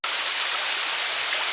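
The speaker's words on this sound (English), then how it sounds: "And now there's a creek running down it." Creek water flowing steadily in a channel beside a hiking trail in the Great Smoky Mountains, a loud, close, continuous broadband rush with no pauses.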